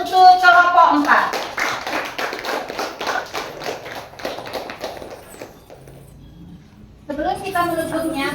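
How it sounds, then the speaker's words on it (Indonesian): Classroom students applauding a group, a burst of rhythmic hand clapping that fades out, with a voice speaking at the start and again at the end. "Beri tepuk tangan untuk kelompok 4."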